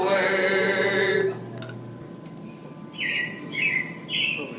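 Robins chirping in an outdoor scene of a theme-park animatronic show, with bright repeated high chirps after a louder tonal musical passage fades, near and clear.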